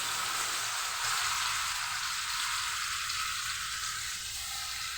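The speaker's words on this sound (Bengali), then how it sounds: "এখন পনিরটাকে আমি কড়াইতে দিয়ে দিই।" Paneer coated in a mustard and coconut paste fries in mustard oil in a kadai, giving a continuous, even sizzle of bubbling oil that fades slightly toward the end, with no voices.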